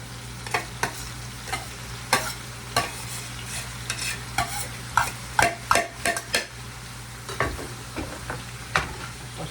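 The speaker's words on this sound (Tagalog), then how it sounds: "lagay ko na yung carrots" Carrots fry in butter in a pan, a steady low sizzle under repeated scraping clacks of a utensil stirring against the pan at an irregular rhythm, close and moderately loud, with no talking.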